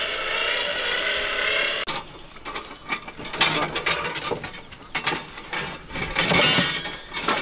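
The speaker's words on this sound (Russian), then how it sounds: "откручиваем" A ratchet wrench clicks and clinks in rapid bursts while bolts are unscrewed during foundation rebar work outdoors, the metallic ratcheting fairly close and repeated in uneven runs.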